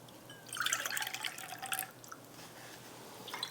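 Leftover Nokoss water poured from a container into a cooking pot while making Senegalese Mafe, a short splashing pour lasting about a second and a half, then fading to faint drips in a quiet kitchen.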